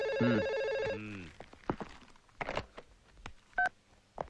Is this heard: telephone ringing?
yes